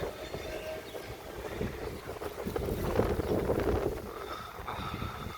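Strong, steady wind roars and gusts across an open rooftop just before a Kalbaishakhi storm, a broad continuous rush with swelling surges and no talk.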